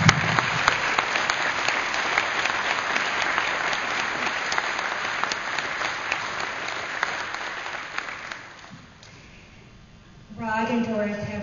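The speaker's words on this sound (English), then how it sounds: "Please give them an applause." Sustained applause from an audience at a Chamber of Commerce awards ceremony fills the room, fading out after about eight seconds before a voice resumes speaking.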